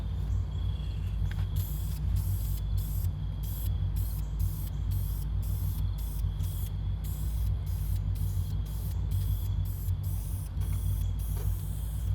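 Primer is sprayed onto a car hood, giving a constant close hiss that runs steadily through the whole stretch without breaks or talking.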